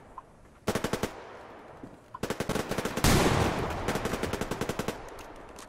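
Shotgun fire in the game Survarium: loud, evenly spaced bursts of repeated shots in several strings, close and sharp, with a brief pause between volleys.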